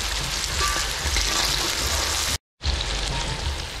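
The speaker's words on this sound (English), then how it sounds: "I'm gonna let this fry up for a little bit." Ginger and seasoning fry in a hot pan, a steady dense sizzle and crackle running loud and close throughout, broken only by a brief silent gap before the frying resumes.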